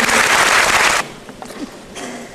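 A theater audience at a university student night claps loudly in a dense burst for about a second, then the applause drops away to scattered faint claps before a short swell returns.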